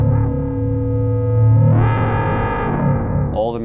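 Synthesizer producing loud, sustained howling tones that are heavily distorted and run through effects, swelling and brightening partway through before breaking into warbling, glitchy sounds at the end.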